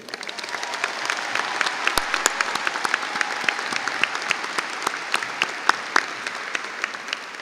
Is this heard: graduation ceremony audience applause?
yes